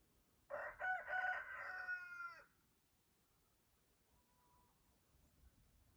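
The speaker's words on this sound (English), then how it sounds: "Those are my big chickens." A single rooster crows loudly once, a drawn-out call lasting about two seconds, followed by quiet with a faint bird note in the background.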